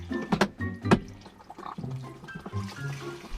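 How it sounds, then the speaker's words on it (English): A motorhome toilet being flushed during winterizing of an older motorhome, giving a short burst of gurgling, rushing water with a couple of thunks. It is close and fairly loud, with no talk. "and the toilet. Boy, I hope there's nothing in that. Flush this."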